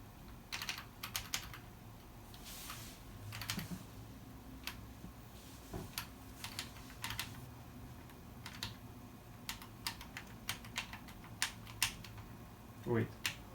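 Keys on a Telecomet Japanese terminal keyboard are pressed one at a time in scattered, uneven clicks, quiet and close, with a faint hum beneath and brief murmured talk near the end.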